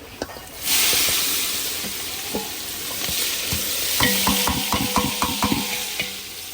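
Onion, tomato and chili hit a hot pan with a sudden burst of sizzling that holds as a steady hiss, broken later by quick, rhythmic scraping and tapping of a spoon stirring the mixture.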